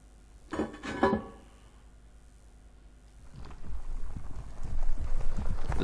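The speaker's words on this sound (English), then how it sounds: "The sound of galloping horses." Galloping horses in Silent Hill 2 rise out of quiet as a low, muffled rumble of hoofbeats that grows steadily louder toward the end, following a couple of brief knocks.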